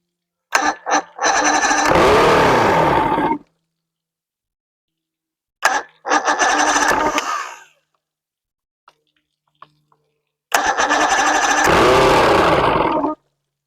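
A 1993 Evinrude 115hp outboard motor cranks in three loud bursts, sputtering and trying to catch without settling into a steady run, with quiet pauses and small clicks between attempts.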